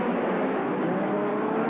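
Hot rod race cars lap the Wimbledon track in 1983, heard as a steady, fairly distant engine drone with no breaks or peaks.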